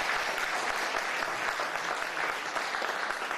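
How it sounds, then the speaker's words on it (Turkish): Sustained applause from an audience at a Turkish commemorative panel on Atatürk, dense and steady throughout with no break. "Arkadaşlarım adına sizlerden bir alkış rica edebilirim."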